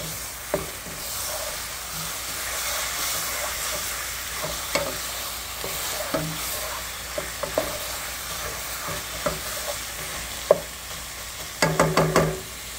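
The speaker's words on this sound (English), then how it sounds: "cook that up a little bit. Sweat them, as you would say." Aromatic vegetables sweat in a pan for sausage spaghetti, a steady moderate sizzle broken by intermittent scraping stirs and utensil knocks, ending in a quick run of sharp taps, with no one speaking.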